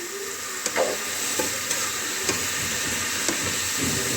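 Potato and radish curry is stirred in hot oil, a steady close sizzle with a few light scraping taps of the spoon against the pan.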